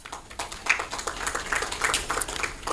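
An audience at a law society conference applauds, scattered hand claps building into a modest, uneven round heard from a short distance, fairly quiet and continuing for a few seconds.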